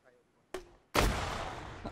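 Video game artillery fire booms out in two close blasts, a sharp muffled thud followed by a much louder explosion with a long rolling rumble that fades slowly.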